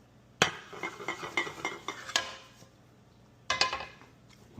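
Metal utensils clink and scrape against a dish while a zucchini frittata pie is sliced and plated, with irregular close taps and knocks, a quiet pause, then a couple more sharp clatters.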